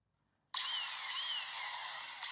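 An angle grinder spins up abruptly after a silent moment into a steady, high, whining buzz that holds constant, close and fairly loud, with a slight dip near the end.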